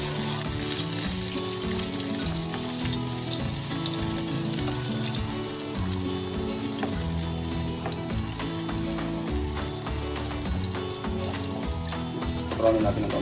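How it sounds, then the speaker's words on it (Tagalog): Garlic sautéing in a pan for pancit canton with cabbage, a loud steady sizzle and hiss throughout, with a faint voice underneath. "Magigisa na tayo ngayon ng sibuyas at bawang."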